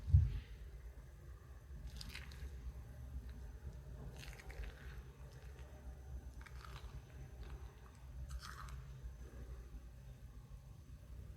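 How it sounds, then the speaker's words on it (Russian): Thick, active sourdough starter stirred in a container, giving soft wet squelching and faint crunchy smacks in a few bursts over a low steady background hum, with no talking. "когда она готова, она должна издавать такой характерный звук при перемешивании"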